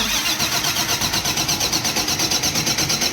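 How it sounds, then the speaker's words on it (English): A starter motor cranks the engine of a Caterpillar 637 scraper with a rapid, steady rhythmic chugging, loud and close, continuing throughout without the engine catching. "Let's crank this starter over"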